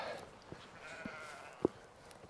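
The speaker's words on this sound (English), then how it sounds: "I like how the sheep, the goats are cool, but the sheep are so much more lively." Sheep and goats on an off-grid island farm bleat outdoors, with one sharp, loud bleat standing out among a few softer calls and low background noise.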